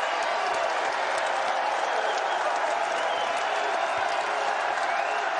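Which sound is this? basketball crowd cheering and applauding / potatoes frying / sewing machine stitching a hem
basketball crowd cheering and applauding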